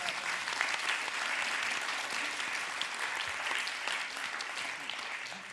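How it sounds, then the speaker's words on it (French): Sustained applause from an audience at a congress plenary session, steady mass clapping heard at a moderate distance, even in level throughout with no voices over it. "Applaudissements."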